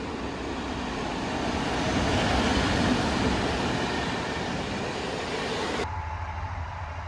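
A loud rumbling train arrives at a station close by with a steady roar, then the noise cuts off abruptly near the end.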